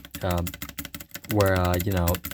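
Rapid key clicks on a Fnac Streak 65 LP low-profile keyboard, heard under someone talking throughout.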